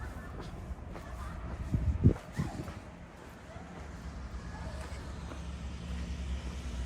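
A bus rolls past on a night street in the Kusatsu onsen town, Gunma, Japan, its engine and tyre noise swelling to a brief peak then fading under general traffic hum and wind.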